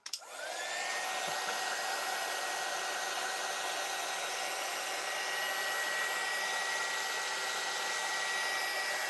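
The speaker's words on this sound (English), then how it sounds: "Right, so I'm going to put the heat tool on again." A craft heat tool blasting hot air to dry mixed-media work, switching on with a click and then holding a steady, even whooshing hum that continues alone for several seconds.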